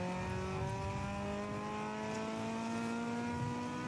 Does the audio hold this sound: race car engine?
yes